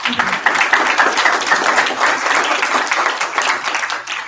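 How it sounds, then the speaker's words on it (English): A room of audience members at a Clifton city council candidate forum applauds the moderator, a loud, even wash of many hands clapping that holds steady for several seconds without speech. "So let's give her a round of applause."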